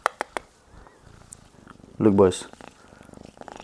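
Brief burst of purring from a pet kitten, close and fairly loud for a moment amid scattered talk, handling noise and a few sharp clicks at the start.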